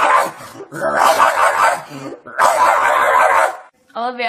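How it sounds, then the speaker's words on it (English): A dog barks and yips in loud, close bursts, with a person's voice briefly heard at the end. "What does the dog say?"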